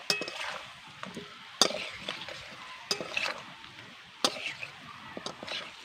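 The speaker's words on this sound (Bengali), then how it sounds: "আর দিয়ে দিচ্ছি ভেজে রাখা মাছ এবার ভালো করে সব কিছুকে মশলার সঙ্গে মিশিয়ে নেব" Fried fish and fried potatoes being stirred into spice masala in a pan, with repeated scraping and clattering strokes at irregular intervals and a soft sizzle between them, close and fairly quiet.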